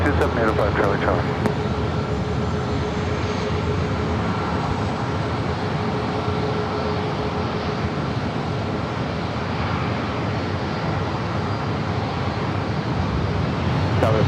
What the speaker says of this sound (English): runway 27, clear for takeoff